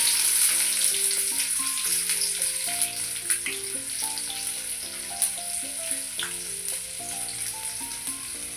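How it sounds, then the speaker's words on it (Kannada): Onions frying in oil in a pan with cooked chicken for a country-style chicken sukka, giving a steady sizzle and occasional stirring clicks, heard under a continuous backing music track with no talk. "ಇದಕ್ಕೆ ಈರುಳ್ಳಿ ಹಾಕ್ಕೊತಿದ್ದೀನಿ ಖಾರಕ್ಕೆ"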